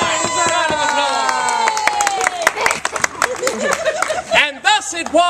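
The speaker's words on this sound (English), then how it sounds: "Thank you so much for your round of applause." An audience at a children's theatre show about King Arthur claps and cheers loudly, with shouting and whoops over brisk, uneven applause as the performers' voices rise above it.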